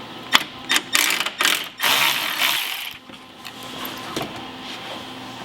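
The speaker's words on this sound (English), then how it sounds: "remove the three 8mm bolts here on the top" A ratchet wrench removing 8mm bolts above the headlight of a BMW E36, quick bursts of close metallic clicking that slow into scattered ticks toward the end.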